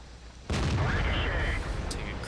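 A tank gun fires in World of Tanks, the Type 59's match producing one sudden heavy blast that rolls into a long, loud rumbling decay.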